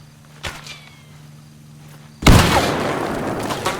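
A grenade bursts in a video game with a loud, sudden boom after a quiet stretch and a faint earlier thump, followed by a rumbling, crackling decay that lingers to the end.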